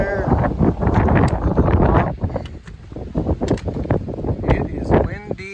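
Strong gusting wind on a hillside stretch of the Appalachian Trail in Virginia buffets the microphone in loud, uneven rushes, with a hiker's voice talking over it.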